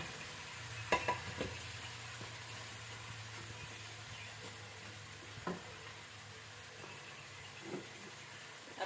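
Potatoes and chilies stirred together in a pan, a quiet sizzle broken by a few scraping, clattering knocks of the utensil, with a low hum underneath early on.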